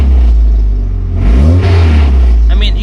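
A Mazda Miata MX-5 with a bad clutch release bearing revs loudly and up close, engine rising from idle to a brief rev and settling back, with a rough, droning tone throughout.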